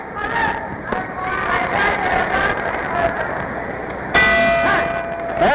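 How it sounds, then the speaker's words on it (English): A boxing bell rings loudly to end round two of a welterweight title bout between Emile Griffith and Benny Paret. It clangs out sharply near the end over a noisy arena, with a commentator talking. "There's the bell ending round two"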